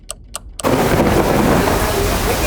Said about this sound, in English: it's raining so hard right now, with no signs of stopping, and really loud thunder